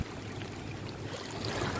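A flooded creek overflows its banks in a 15-foot rise, giving off a constant rushing wash of water that is fairly close and stays even throughout.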